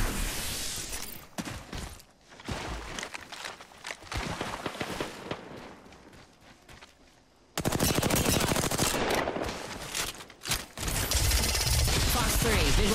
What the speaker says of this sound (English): Watch out, they're shooting.